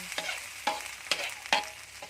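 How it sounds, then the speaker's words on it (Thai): Field rat is stir-fried in a hot pan, with a continuous close sizzle and about four rhythmic scraping strokes of a spatula tossing the meat. "แล้วก็ผัดผัดผัดให้เข้ากันนะคะทุกคน"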